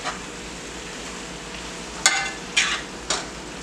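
Salted codfish gravy simmers in a hot pan under a soft sizzle, with three sharp spoon-on-pan scrapes near the end as it is stirred.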